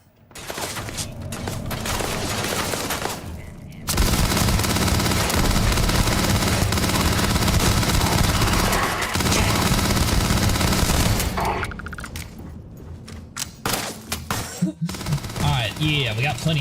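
Sustained rapid gunfire from a Grendel rifle in the sci-fi game Starfield, dense bursts that run loud for most of the stretch, ease off briefly, then resume in choppier shots.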